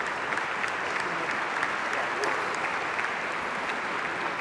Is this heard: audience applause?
yes